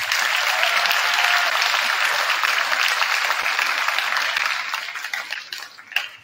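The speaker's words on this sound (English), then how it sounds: "So please give a round of applause to Lori." Applause from a crowd at a high school senior night, sustained and loud for several seconds before thinning out into scattered claps.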